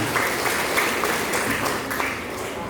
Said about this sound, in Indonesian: kita beri tepuk tangan dulu untuk pembina kita